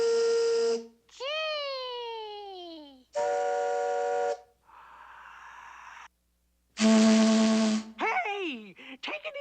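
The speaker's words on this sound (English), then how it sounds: "I can't hear a thing with this loudmouth whistle." Loud, long whistle blasts with sliding pitch, repeated several times with short gaps, including a breathy hiss between them.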